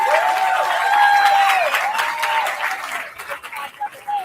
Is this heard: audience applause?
yes